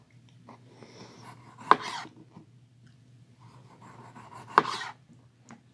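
An Old Hickory Kephart carbon-steel knife slices through a raw potato, two sharp crisp cuts spaced a few seconds apart, close and clear against a quiet low hum.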